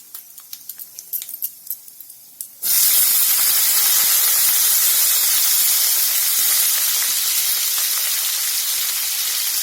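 Eggplant pieces drop into a hot pan with fenugreek seeds and cumin, and a loud, steady close sizzle erupts and continues, after a few light clinks and taps before the frying starts.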